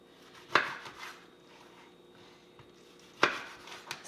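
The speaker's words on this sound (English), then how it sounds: "I cut them as if I was going to eat them as like an orange slice" Two sharp knife cuts through halved oranges on a cutting board, spaced a few seconds apart, close and fairly quiet, with a dull blade being used to slice the fruit into wedges for a green juice.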